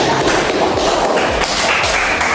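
A classroom of children applauds a student: dense, steady clapping from many hands that fills the whole short stretch.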